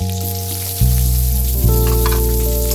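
Green chillies, garlic and curry leaves fry in hot oil with a loud, steady sizzle close by, surging twice as more goes into the pan, and no one talks.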